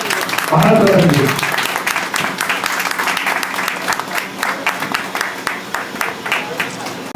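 At a police and residents' welfare association meeting, a crowd breaks into loud applause while a voice speaks over the start, then the clapping thins into scattered, rhythmic claps that fade toward the end.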